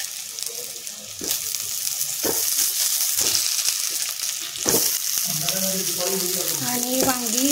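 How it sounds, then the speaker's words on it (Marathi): Stuffed eggplants sauté in hot oil with onion, turmeric and red chili. A steady close sizzle is broken by a few stirring scrapes, and a voice speaks over it near the end. "आणि वांगी ही अशी 2-3 मिनिट कणी परतून घ्यायची."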